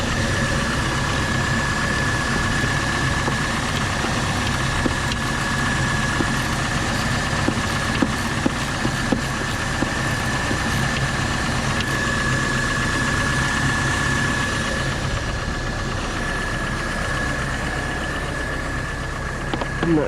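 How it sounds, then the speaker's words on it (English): A 2.2 L S10 four-cylinder engine idles steadily and continuously with a faint, regular tick over the low rumble, with no one speaking. "Do you guys hear that tick?"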